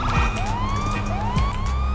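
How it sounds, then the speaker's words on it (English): A police car siren wails in GTA V, rising sweeps repeating about once a second, loud and close over a rumbling engine and game noise. "The siren."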